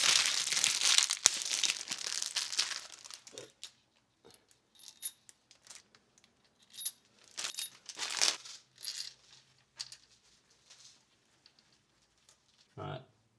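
New injector holder bolts for an Audi A4 2.0 TDI engine rebuild are handled, giving bright metallic clinks and a few rattles alongside crinkling packaging, in short bursts separated by pauses.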